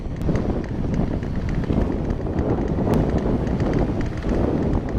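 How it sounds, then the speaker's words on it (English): Strong wind buffets the microphone while riding an e-bike outdoors, a loud continuous rushing roar with gusty fluctuations and no voices. "It is super, super windy out"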